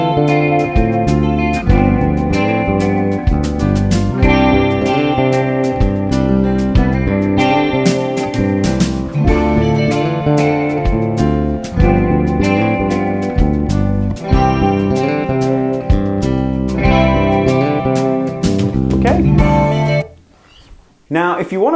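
Melodic bass guitar line played through a chord progression with a backing track, steady and loud throughout, with effects-unit coloring, stopping abruptly near the end before a brief restart.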